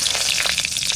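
Dry chilli, bay leaf and cumin hit hot mustard oil in a pan, giving a loud, close, continuous crackling sizzle for a brief moment with no voice over it.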